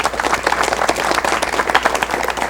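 Studio audience on a 1985 Korean television talk show applauds a guest being welcomed, a dense, steady wash of many hands clapping at even loudness throughout, with no talk over it.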